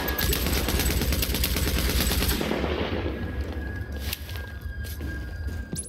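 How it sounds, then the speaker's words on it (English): Rapid, loud automatic gunfire from The Division video game, a sustained burst of shots that eases into scattered fire and ambient game noise. "Did I fire 74 bullets"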